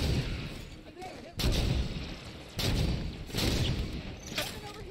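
Gunfire in Halo 5: Guardians plays close and loud, with several heavy shots landing at uneven intervals over a constant roar of battle noise.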